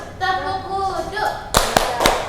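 Children clap the tepuk wudhu rhythm in a classroom, giving three sharp, loud claps near the end after a stretch of a woman's sung or spoken voice.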